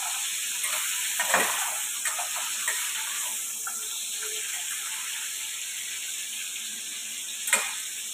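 Crab curry frying in a pan hisses and sizzles steadily, with occasional scraping stirs of a spoon against the pan, close and moderately loud, without talk.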